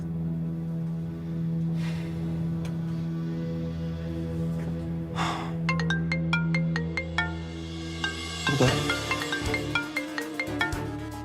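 A phone ringtone plays, first as a soft sustained tone, then bursts into a bright, rhythmic electronic melody that grows louder toward the end.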